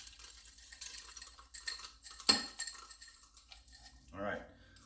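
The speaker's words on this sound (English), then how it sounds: "And then let's just put some crushed ice." Crushed ice drops into a drink glass with a bright clattering rattle, followed by a shorter clink as more ice settles, close and fairly loud against light background noise.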